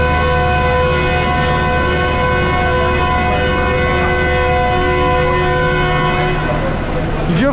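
A train's departure whistle from locomotive G40 at Lahore railway station sounds as one loud, sustained horn tone held for about six seconds before it fades out.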